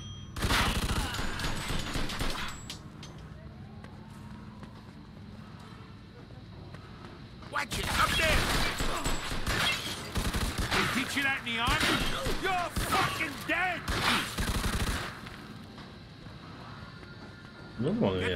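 Bursts of gunfire from the Mafia II Definitive Edition video game, rapid repeated shots in loud clusters separated by brief pauses, with someone talking over parts of it.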